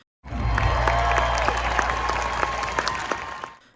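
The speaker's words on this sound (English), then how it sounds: "Let's give a round of applause for that." A crowd claps steadily in sustained applause, fairly loud, with individual claps popping through before it fades out at the end.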